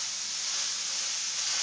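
Chili ingredients frying in a pot give off a steady, close hissing sizzle that holds evenly throughout with no talking.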